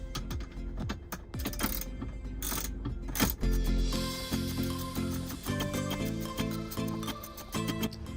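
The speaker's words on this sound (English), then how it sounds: "I tilted it this way so I can easily put these 10mm bolts back in." 10mm bolts being tightened on a Tesla Model Y/3 center screen bracket: rapid clicking ratchet strokes in short bursts, then a steadier run of mechanical ticking and ratcheting, close up and with no talking.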